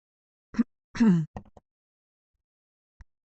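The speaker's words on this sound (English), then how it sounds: "I don't know why I need to clear my throat so much." A few short throat-clearing grunts and rasps from one nearby person, separated by brief silences, with a faint click near the end.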